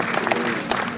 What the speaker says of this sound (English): Let me clap for him.